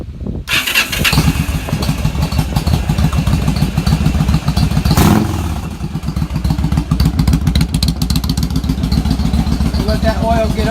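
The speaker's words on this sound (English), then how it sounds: "we're going to start it for a minute and let it run" A 2000 Yamaha V-Star 1100 motorcycle engine cranks, catches and settles into a loud, steady idle with a throbbing, lumpy rhythm close by, with a brief revving swell midway.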